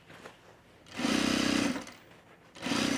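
A sewing machine stitches in two bursts, a longer run of about a second and a shorter one starting near the end, each a fast, steady mechanical hum. Quiet gaps separate them and no one speaks.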